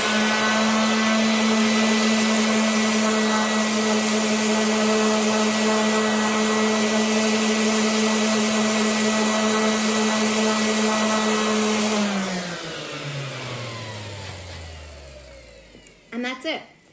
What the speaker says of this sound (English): I'm just going to show you how I'm going to sand this side so that looks like this side.